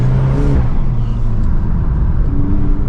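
A 2025 hot hatch or performance car revs hard at a launch-control start, its loud, steady engine drone and deep rumble holding close throughout with no talking.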